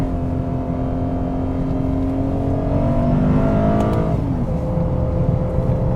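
A 2022 Lexus IS 500 sedan with a V8 drives along, its engine droning steadily from inside the cabin, rising in pitch as it accelerates and then dropping back as the revs fall.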